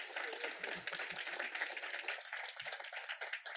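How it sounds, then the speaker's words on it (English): A crowd applauds three speakers at a 50th anniversary event on Filipino and Mexican immigrant farm worker unity, dense clapping throughout that stays at an even, moderate level. "Can we give our three incredible speakers a round of applause?"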